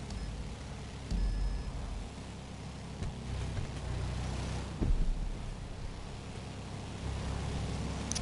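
Car traffic in the video game GTA: a steady, noisy road rumble of passing vehicles with a slightly louder surge around the middle, no voices.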